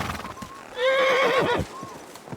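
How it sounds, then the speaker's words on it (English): A horse in the video game Kingdom Come: Deliverance 2 gives a loud, wavering whinny, with the soft clip-clop of hooves and faint game ambience around it. "What a beautiful horse."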